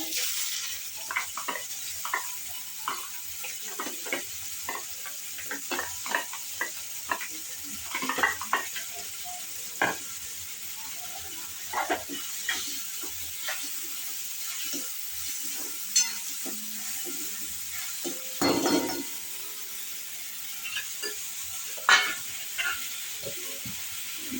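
Chopped onion fries in hot oil for matar paneer, a low, continuous sizzle under repeated scraping and clinking strokes of a spoon stirring the pan, the stirs coming at an uneven rhythm throughout.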